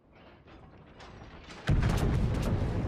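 A World of Warships battleship, the Großer Kurfürst, fires its main guns: rumbling low mechanical noise builds, then a heavy broadside boom lands and rolls on loudly, with no talk over it.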